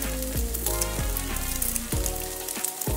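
Kimchi rice sizzles in a frying pan as it is stirred, a steady close crackle running underneath louder tonal background music.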